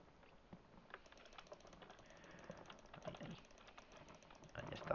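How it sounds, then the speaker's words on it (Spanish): Rapid mouse clicking during Minecraft play, a fast, steady patter of small faint clicks running throughout, growing slightly busier toward the end. "Vamos a dar muchos clics."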